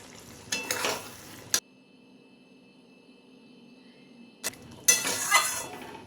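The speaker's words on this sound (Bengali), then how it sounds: "চিনি দিয়ে হালকা হাতে নাড়াচাড়া করে মিশিয়ে নিচ্ছি।" Moong dal with ridge gourd being stirred after sugar is added, with two short bursts of spoon scraping and clinks against the pot around a quiet gap and a faint simmer underneath.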